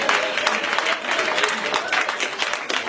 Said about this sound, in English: I don't know what you're clapping about